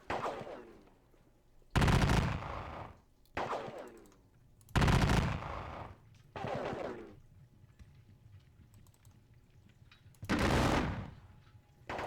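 Massed troop volleys in a video game of the Battle of Dennewitz, heard as several separate rolling bursts of musketry that swell and fade with quiet gaps between them, and no talk over them.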